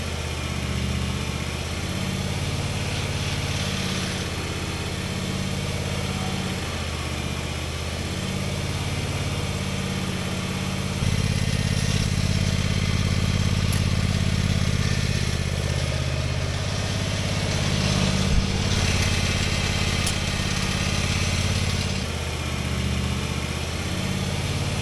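A Gravely zero-turn mower engine runs steadily, close and fairly loud, its low drone swelling and easing as the steering levers are slowly moved forward and back; no talking.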